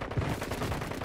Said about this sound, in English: I'm being sniped from somewhere.